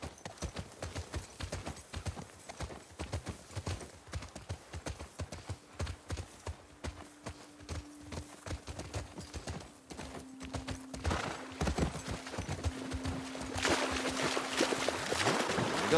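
Horse hooves clip-clop in a steady walking rhythm, close and distinct, as horses are ridden through the post-apocalyptic world of The Last of Us Part II, with a faint drone and a rushing wash swelling toward the end.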